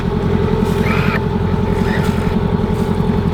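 A sailboat motor sailing under engine power at night with no wind, a loud steady low engine drone with a regular throbbing pulse, close and continuous, faint wind noise on top.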